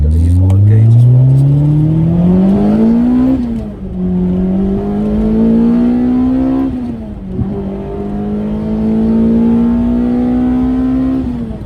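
A Toyota 2ZZ-GE engine in a car revs hard through the gears: three rising, loud engine sweeps, each cut by a brief dip at the shift, carried close and steady for the whole stretch.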